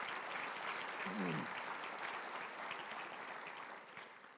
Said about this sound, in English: So please give a round of applause to my family.